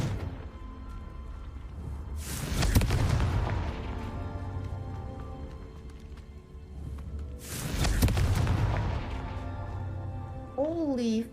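Confringo blasting spells in Hogwarts Legacy go off as two loud booming bursts several seconds apart, each fading slowly, while a player talks throughout and game effects chime near the end.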